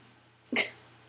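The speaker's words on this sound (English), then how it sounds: "I got hiccups." A single sharp hiccup breaks out close by after a moment of quiet room hum, brief and abrupt.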